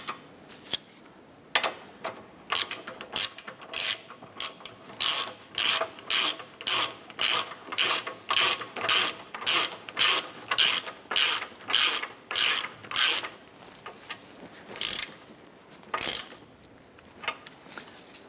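A hand ratchet clicks in quick repeated bursts while tightening the lower ball joint nut on a 2008–2012 Honda Accord front hub, close and loud with brief pauses between strokes.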